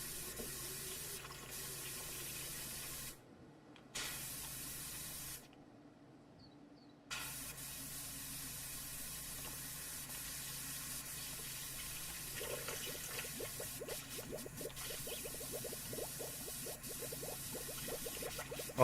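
Water sprays down in a video game as a steady hiss that runs under the whole stretch. The spray cuts out briefly twice and then carries on with a faint, fluttering texture.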